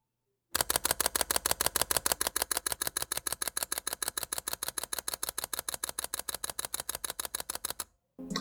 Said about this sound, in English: I hit that shutter button after putting the camera in burst mode